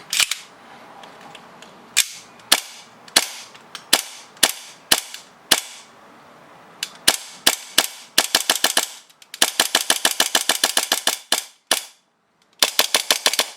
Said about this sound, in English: let's test it out. We're just gonna dry fire